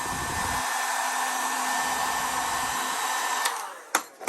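A heat gun blasts a steady, loud roaring whoosh over vinyl wrap on a car door handle, then cuts off near the end with a couple of clicks as it is shut down.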